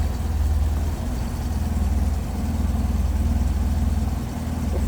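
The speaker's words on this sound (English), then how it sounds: "The 4-cylinder running pretty smooth." 1971 Opel GT four-cylinder engine idling smoothly up close, a steady low rhythmic rumble with an even pulse and no talk.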